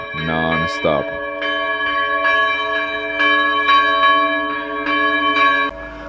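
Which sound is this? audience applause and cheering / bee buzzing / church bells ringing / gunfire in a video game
church bells ringing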